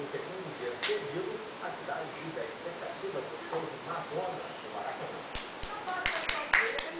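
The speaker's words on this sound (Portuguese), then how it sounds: "Lógico, ele merece palmas." A few sharp hand claps ring out near the end as people cheer a toddler walking in a baby walker at home, with voices talking over a quiet room.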